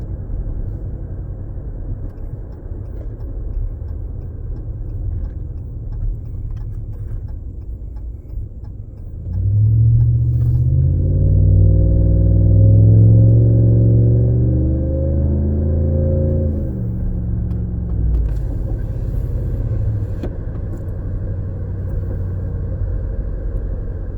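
A 2019 Ram 1500 with the 5.7 HEMI V8 and a Solo Performance muffler delete, heard inside the cab while cruising. A low, steady drone runs throughout and swells into a louder, deeper engine hum midway before settling back.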